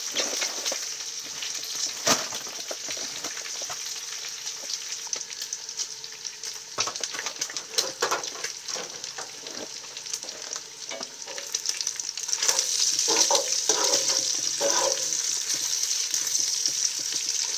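Bacon fries in a pan with a dense, continuous sizzle and crackle, occasional louder pops and scrapes of stirring, the spitting growing brighter toward the end.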